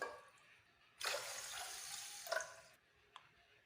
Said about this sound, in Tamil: 2 டம்ளர் தண்ணி ஊற்றிக்கலாம்.